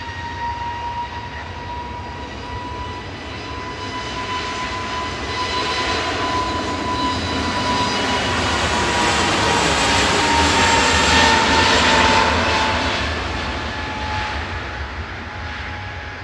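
Jet airliner at Manchester Airport, a steady broadband engine roar with a whining tone that swells to a peak around the middle and fades slightly as the aircraft passes, with no voices.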